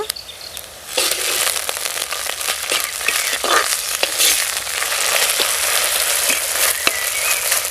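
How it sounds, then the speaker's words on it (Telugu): Onions frying with ginger garlic paste for a gongura and dried prawn curry, a loud crackling sizzle that jumps in after a quieter start, dotted with sharp pops and stirring scrapes. "ఓకే సూపర్గా వేగిపోయండి ఉల్లిపాయలు అయితే అల్లం వెల్లి పేస్ట్ వేసుకుంటున్నాను"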